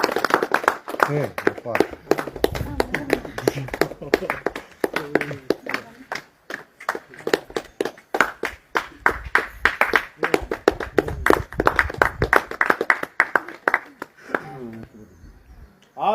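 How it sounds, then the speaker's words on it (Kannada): A group claps along at a party event at Chitradurga fort honouring a local climber, with quick, uneven claps running steadily through lively talk and shouting, then fading out near the end. "ಚಪ್ಪಾಳೆ ಬರ್ಲಿ ಚಪ್ಪಾಳೆ ಬರ್ಲಿ."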